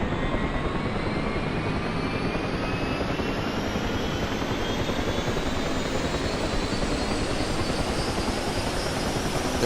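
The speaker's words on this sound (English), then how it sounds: "The helicopter will toss you around quite a bit as the rotor spins up." A helicopter rotor spins up in the DCS flight simulator, a constant loud whirring drone with rising whine tones that climb steadily in pitch throughout, with no voices.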